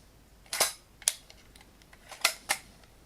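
Four sharp mechanical shutter clicks from a Purma Special (First Model) camera, close and fairly quiet, spaced irregularly with short pauses between them.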